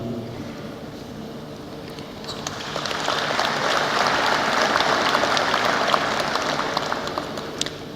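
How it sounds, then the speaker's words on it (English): Audience applause rises in a hall at a Kwibuka 30 genocide commemoration, starting from quiet room tone and swelling into a steady, fairly close wash of clapping that holds to the end. "we applaud you"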